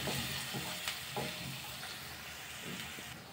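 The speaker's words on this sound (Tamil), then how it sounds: "ஒரு வாட்டி நல்லா மிக்ஸ் பண்ணிடலாம்." Chillies, ginger, curry leaves and a pinch of asafoetida are stirred in a hot pan, soft scraping strokes over a faint, quiet sizzle of oil.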